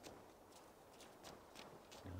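Rhythmic hoof clops from a horse in the video game Assassin's Creed Valhalla, a steady series of evenly spaced beats at moderate volume over a faint background hum.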